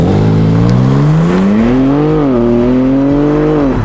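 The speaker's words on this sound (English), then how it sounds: "This M3 competition with the ZF 8-speed and the xDrive system will hit 60 miles an hour in the low 3" A 2023 BMW M3 Competition xDrive with ZF 8-speed accelerating hard, engine note climbing loud and close through a gear change, then rising again.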